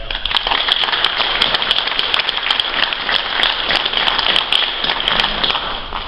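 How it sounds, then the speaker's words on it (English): An audience at a village State of the Village address, closing a community sesquicentennial weekend, claps in a dense, sustained round of applause that stays loud and even throughout. "a great big round of applause right now"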